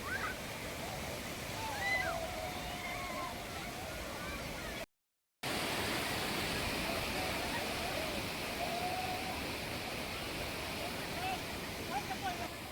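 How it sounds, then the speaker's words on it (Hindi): Heavy overflow from a dam at a rain-swollen waterfall spot near Lonavala, a steady broadband rush of water that carries on loud and unbroken for the whole stretch apart from one brief dropout. "जिससे डैम से ओवरफ्लो होने वाला पानी का बहाव भी बढ़ रहा है"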